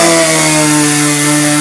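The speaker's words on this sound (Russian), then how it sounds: "все пилит и пилит" A power saw, likely a chainsaw, runs at full revs during window replacement work, a loud, steady buzzing whine close to the microphone with no pauses.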